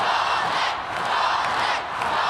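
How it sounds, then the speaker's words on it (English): A stadium crowd at a women's Six Nations rugby match between Scotland and Ireland roars loudly and continuously, swelling and dipping in a dense wall of cheering. "The crowd roar on Scotland."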